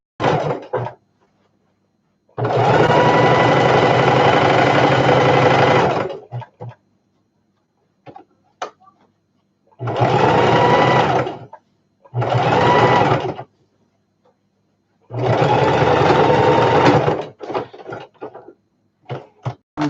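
A sewing machine stitches a shoulder bag in four separate loud bursts of steady whirring, each a second to four seconds long. Quiet pauses and faint handling clicks fall between the bursts.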